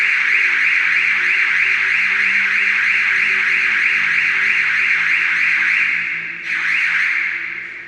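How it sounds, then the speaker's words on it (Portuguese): An alarm blares loud and steady for the whole stretch, a continuous piercing electronic siren tone that wavers briefly near the end. "Disparou nosso alarme aqui, mas já deu certo."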